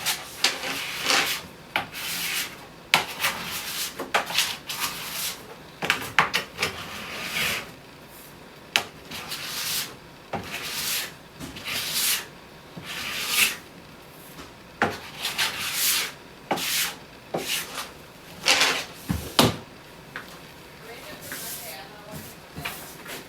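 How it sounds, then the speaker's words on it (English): Plastic scraper strips hardened wax from a snowboard base in repeated close rasping strokes, each lasting about a second, with short pauses between passes. "You want to scrape it. You don't want to gouge it off."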